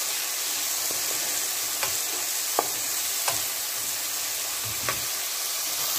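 Chicken pieces frying with spice masala in hot oil, a steady close sizzle with occasional sharp crackles and spoon stirring, no talking.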